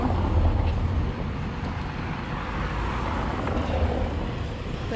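Street traffic rumbles past in Playa del Carmen, with cars and a heavier vehicle passing close by, making a continuous low roar of engines and tires over a busy roadway background.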